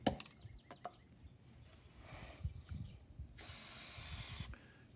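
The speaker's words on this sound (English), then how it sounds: "we have some Plasti Dip. We're going to go ahead and spray this." An aerosol can of Plasti Dip sprays in one long, steady hiss lasting about a second, after a few shorter bursts and some handling noise.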